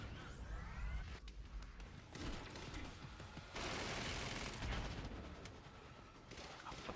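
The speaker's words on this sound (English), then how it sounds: "He was right next to that explosion." Gunfire and an explosion in Quantum Break crackle in dense, loud bursts, with a broad roaring blast in the middle followed by scattered sharp shots and mechanical clatter.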